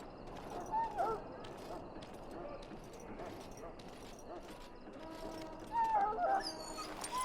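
A dog in the video game Dragon Age: Origins, whimpering and giving a few short whines over game ambience with mechanical clicks and shuffling, while someone talks throughout.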